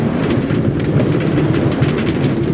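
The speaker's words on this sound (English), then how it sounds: "The train doors are closing." A Minecraft server train closes its doors and pulls away, giving a loud steady mechanical rumble and rolling hum with faint clicks on top, near and continuous.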